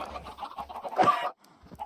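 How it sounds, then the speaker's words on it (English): Blocky Minecraft chickens, heard in a VR game, cluck close by in a short burst of clucks and a squawk. Quieter clucking trails off after. "I don't know how these chickens are getting out either."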